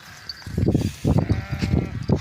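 Sheep of a herd on a hillside bleating, several overlapping close bleats in quick succession over a couple of seconds.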